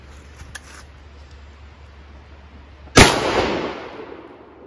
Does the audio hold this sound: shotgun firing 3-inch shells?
yes